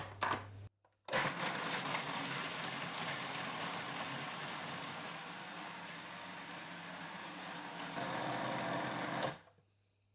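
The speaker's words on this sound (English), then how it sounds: "now we're going to blitz it" Blender blitzing cashew cheese ingredients with good quality oil: a loud, steady high-speed whirr running for about eight seconds after a brief start, the pitch shifting slightly near the end before it stops.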